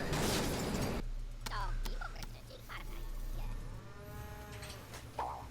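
A cow moos repeatedly in a looping animated short film render, its drawn-out calls rising and falling over a low steady hum, close and fairly loud, with a brief burst of noise at the start.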